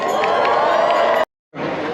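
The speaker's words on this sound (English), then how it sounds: "Y'all give a big round of applause for Dr." Audience applause and cheering for an award winner at a Dickens holiday festival in Fayetteville, North Carolina: a dense, loud crowd roar that cuts out briefly, then resumes.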